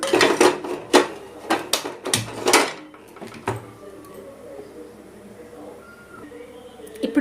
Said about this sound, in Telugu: నెక్స్ట్ ఇప్పుడు బాండీ పెట్టుకుందాం స్టవ్ పైన